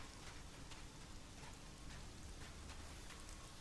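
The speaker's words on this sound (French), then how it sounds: "on a le bruit de la pluie et il n'y a pas de pluie" Steady rain hissing across the soundscape of the video game Elex, a continuous dense patter with faint drop ticks, heard alone with no talk.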